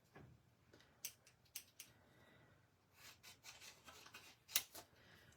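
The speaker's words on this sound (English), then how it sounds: "Let me cut it out and see what it looks like." Small scissors snip out a stamped paper image of a stack of books, giving a series of quiet, irregular close cuts and rustles of paper with no talking.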